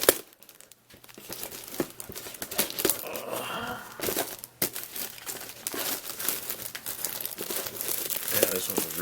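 Sealed plastic wrap on a 1:25 scale AMT Ertl Richard Petty STP Grand Prix model car kit box being cut and pulled open, with continuous close crinkling and tearing crackle across the whole stretch and a voice speaking briefly at times.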